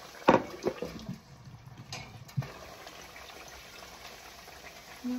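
Banana slices dropped into hot cooking oil for banana chips, giving a sharp splash and hiss at first and then a steady, softer bubbling sizzle that fades to a low simmer.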